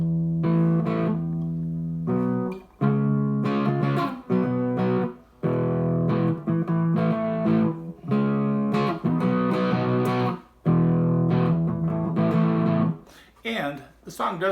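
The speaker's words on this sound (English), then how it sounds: "But power chords and distortion are like this." Distorted electric guitar power chords ring out in loud, sustained strums with brief pauses between chord changes, thick and buzzy, played alone up close.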